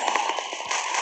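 Brief crackling bursts from a grenade going off in the mobile shooter Gun of Boom, a quick rattle of sharp pops over a steady game background, lasting about a second.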